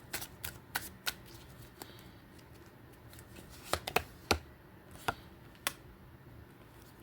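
Tarot cards being shuffled and handled at close range, with scattered crisp riffles and snaps spread over several seconds.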